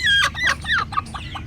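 A hen clucks several times in quick, uneven bursts close by, loud at first and then tapering to softer calls.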